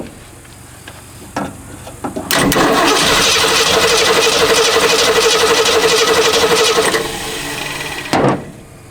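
A 1969 Ford Mustang coupe's engine is cranked over by its starter for about five seconds, a loud, steady, rhythmic churning that does not catch, with brief clicks before and after.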